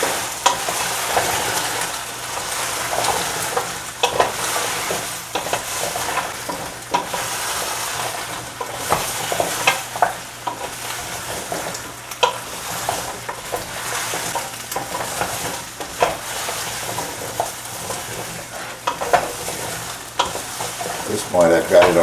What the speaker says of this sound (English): Just stir this around for a minute or so to distribute the coconut oil and the ginger.